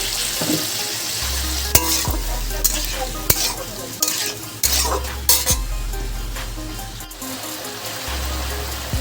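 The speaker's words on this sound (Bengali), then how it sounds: "এবার খুব সামান্য আমি জল দিয়ে দেবো বন্ধুরা যাতে আদাটা পুড়ে না যায়" Grated ginger frying in a pan with a splash of water added, giving a steady loud sizzle broken by several sharp clinks and scrapes of a spoon stirring against the pan.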